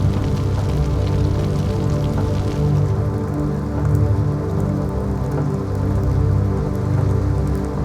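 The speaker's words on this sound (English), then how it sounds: "It has begun to rain." Rain pattering steadily on surfaces in The Sims 2, with a continuous close drumming of drops over a low ambient music bed.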